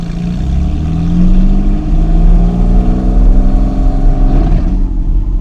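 A 2023 Porsche Cayman GT4 RS engine revs loudly and up close in sport mode, its pitch climbing steadily and then dropping briefly, with no talking.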